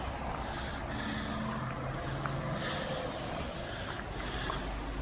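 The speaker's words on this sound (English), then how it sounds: "Traffic's getting louder and louder." Road traffic near a woodland path on an early summer day makes a faint, steady, distant wash of engine and tyre noise, with no voices.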